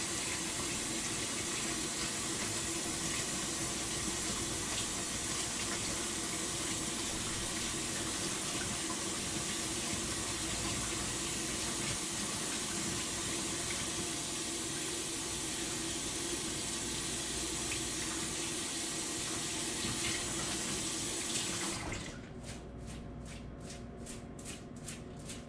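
Tap water runs steadily into a kitchen sink as food is rinsed under it, a continuous broad splashing rush that cuts off abruptly near the end, leaving only quieter room sound.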